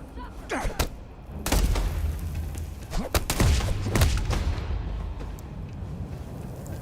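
Gunfire in the video game Starfield: a string of sharp, loud shots and heavy thuds in irregular bursts, some clustered close together, over a low rumbling background.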